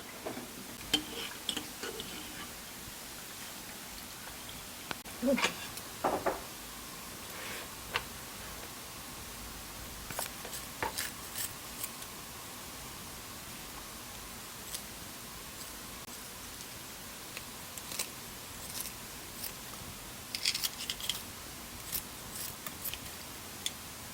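Knife slicing a whole fish into a spicy Korean maeuntang stew with anchovy and kelp broth, heard as faint, sparse cutting clicks and taps over quiet kitchen room noise.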